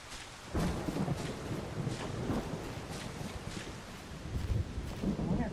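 Thunder rolls through a stormy game world in Solarpunk, a dense, continuous rumble with rain and wind noise that surges loud near the end.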